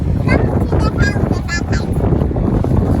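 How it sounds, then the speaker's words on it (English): Low, rumbling wind buffets the microphone throughout at an outdoor playground, with a voice talking over the steady gusty roar. "This is a good windy day."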